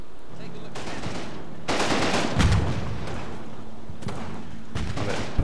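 Covering fire in a Combat Mission: Battle for Normandy assault, with bursts of machine-gun fire and scattered shots rising and falling against a steady battle backdrop, plus a sharp thud near the end.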